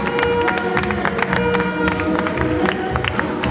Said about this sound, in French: On les applaudit fièrement, ces 4 guerriers du ring.